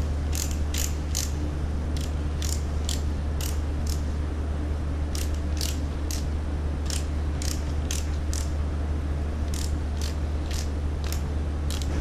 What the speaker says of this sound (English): We'll set our torque wrench to